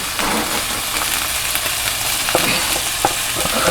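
Finely minced onions sizzle in a hot frying pan with cheesesteak meat, a loud, steady close crackle with a few sharper pops and scrapes of stirring.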